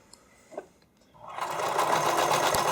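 A sewing machine stitches spandex bikini string. After a couple of faint handling sounds, the motor starts and runs in a steady, fast, close whir until the end.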